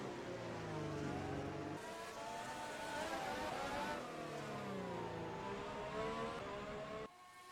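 A Ferrari Formula 1 car in an F1 racing game screams past at high revs, a loud, steady engine note with pitch shifts as it crosses the line, cutting off sharply near the end.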